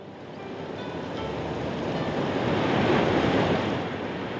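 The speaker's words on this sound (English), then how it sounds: "The Upper Snake River rages in the spring." Turbulent rush of the Upper Snake River in spring flood, a steady broadband roar swelling slightly toward the end, close and loud with no voices.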